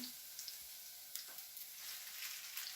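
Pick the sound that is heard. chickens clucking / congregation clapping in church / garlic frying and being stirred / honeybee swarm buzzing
garlic frying and being stirred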